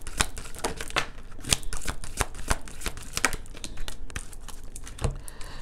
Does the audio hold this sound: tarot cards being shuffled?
yes